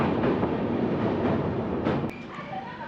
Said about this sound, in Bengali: ট্রেন ঢুকলো এখন বাগরাকোটে